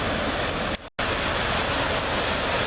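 Deer Creek rushing steadily over rocks upstream of a fish hatchery, a loud continuous broadband roar of flowing water with a brief cut near the start.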